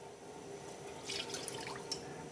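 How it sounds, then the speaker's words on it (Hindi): Water running and splashing into a cooking pot while a garlic and onion curry base is being prepared, a steady faint pour with a few brighter drips and splashes, no talking. "अब हम इसमें सबसे पहले पानी शामिल करेंगे"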